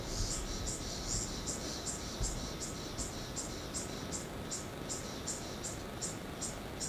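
A rhythmic, high-pitched Magicicada septendecula cicada call pulses steadily about twice per second, continuous and moderately loud over a low background rumble.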